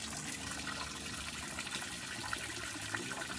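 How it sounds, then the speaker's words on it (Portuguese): Water flows steadily by gravity on a farm, a continuous soft gushing and trickling that stays even and fairly faint from start to finish, with no voices. "Olha a água aqui, a gravidade."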